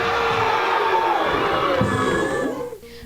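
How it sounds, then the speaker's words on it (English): A crowd of students cheering and shouting at a school pep rally inside an auditorium, loud and sustained with many overlapping voices, fading out near the end. "The auditorium was filled with enthusiasm as Coach McPhee caught the crowd going."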